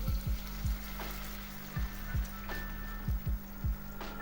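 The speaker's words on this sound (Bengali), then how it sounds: "এবার আমি এর মধ্যে সামান্য একটু জল দিলাম" Frying masala for carrot kabab curry sizzles softly after a little water goes in, with a steady hiss under a series of dull, low thumps and knocks from the pan.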